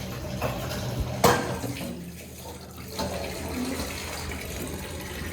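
Water runs steadily from a household tap under repair, a continuous close hiss of flow with a sharp clank about a second in and a few softer knocks afterward.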